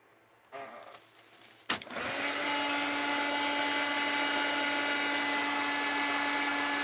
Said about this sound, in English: Let's get out the heat gun and dry this.